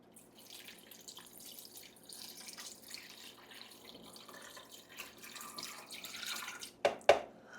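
700 milliliters of water pours steadily into a blender, a soft continuous trickle with a couple of sharper splashes near the end.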